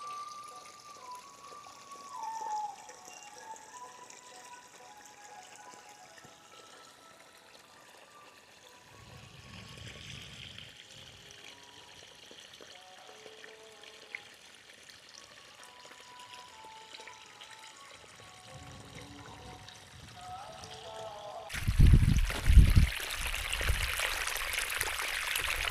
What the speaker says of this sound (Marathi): ढगाळ वातावरणामध्ये पण पाणी प्रेशर खूप चांगलं आहे